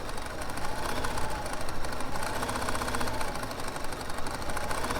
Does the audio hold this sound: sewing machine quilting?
yes